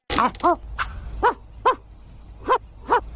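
A dog barks seven times in short, sharp, fairly loud bursts, at an irregular pace with brief gaps between them, and no one talks.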